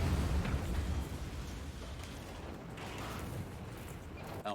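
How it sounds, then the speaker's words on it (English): A video-game explosion in a Batman Arkham game, a loud, rumbling burst of broad noise that slowly tails off into a sustained debris roar with some creaking. "Explosion."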